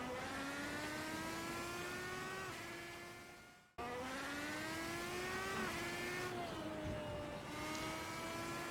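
A race car engine screams at full throttle on the Nordschleife in a racing simulator game, its pitch climbing steadily through the gears with a brief drop at a shift, loud and continuous.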